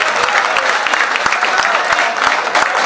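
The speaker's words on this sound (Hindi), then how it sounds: "जोरदार ताली होनी चाहिए" Audience applause at a Punjabi poetry mushaira, vigorous crowd clapping with some sharp individual claps standing out, loud and close, a murmur of voices beneath.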